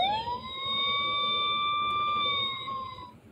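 A Vtech Turn & Learn Driver toy's fire truck siren holds a steady, high electronic wail for about three seconds, then fades out. No voices.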